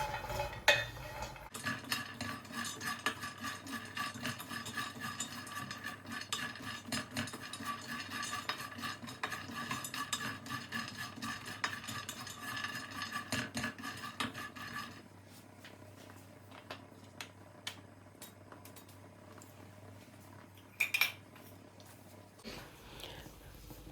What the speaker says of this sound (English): I'll keep stirring and toasting before I add the honey.